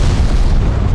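A cartoon explosion: a loud, deep rumbling boom that fills the short moment at full strength and cuts off abruptly.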